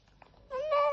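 A cat meows once, a clear drawn-out harmonic call that starts at mid-clip after a quiet stretch and sounds close and fairly loud.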